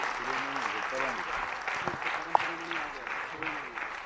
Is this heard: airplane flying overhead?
no